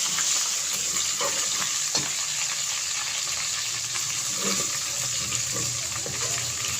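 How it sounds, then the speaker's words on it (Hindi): Ginger-garlic paste fries in a generous amount of ghee for Lahori chikar chane, giving a steady, close sizzle with faint stirring scrapes now and then. No voice is heard. "अब हम अदरक और लहसुन का पेस्ट 2 चम्मच भर के ऐड करेंगे।"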